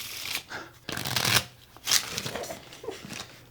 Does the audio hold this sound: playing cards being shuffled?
yes